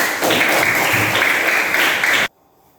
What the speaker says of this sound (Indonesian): tepuk tangan dulu buat kita semua ini